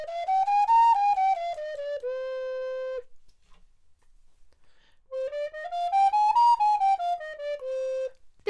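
A breathy, bright telescopic six-hole flute in C Aeolian mode plays a simple melody of sliding notes, pauses for a couple of seconds, then resumes with a similar phrase.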